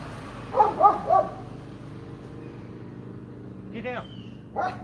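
A dog gives three quick sharp barks close by, then a short pause before a whiny yip and another brief bark, with a faint low hum behind.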